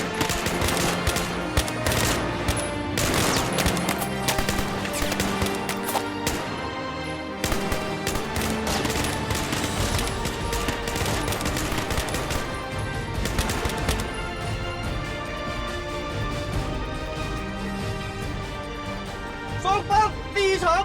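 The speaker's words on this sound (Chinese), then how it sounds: "开始射击" Gunfire in a war movie, with rapid bursts of rifle or machine-gun shots rattling continuously over a dense soundtrack, loud and sustained with a brief break partway through.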